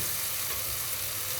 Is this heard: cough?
no